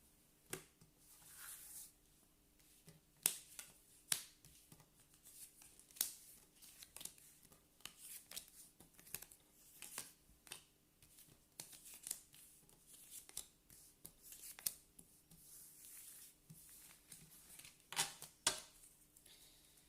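Tarot deck being cut and handled, a series of faint, close papery snaps, flicks and shuffling rustles in an irregular rhythm over a quiet background hum, without any talking.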